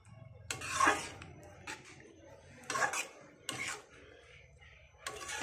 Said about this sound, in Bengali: রান্নাটাকে পুরোপুরি মিশিয়ে নেব।